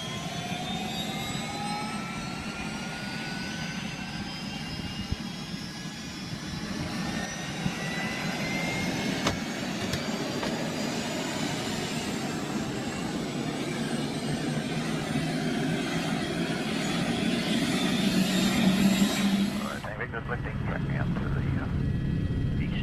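A jet aircraft engine roars steadily through a takeoff, its whine rising in pitch, with people talking under the noise before a sudden drop near the end.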